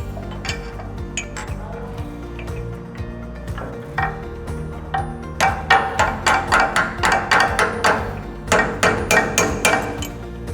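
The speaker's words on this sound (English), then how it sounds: "The hammer and the punch are then for tightening the top nut to lock the adjustment in place." A hammer strikes a punch to tighten the top nut on the lift chain of a BHS battery extractor, with scattered metallic taps at first and then a run of quick, sharp, ringing clinks in a steady rhythm, close and without talk.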